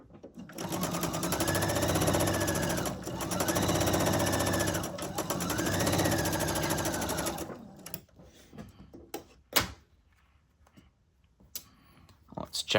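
A sewing machine stitches a quarter-inch quilting seam in a loud, rapid mechanical run that pauses briefly between bursts and then stops, followed by scattered clicks and handling noises while someone talks.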